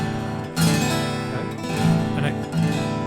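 An acoustic guitar is strummed harshly with a stiff grip on the pick, giving three loud, ringing chord strums that hit roughly a second apart and sustain between strikes, close and alone.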